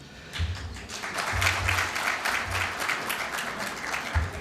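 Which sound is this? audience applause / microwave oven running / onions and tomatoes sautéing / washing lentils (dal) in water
audience applause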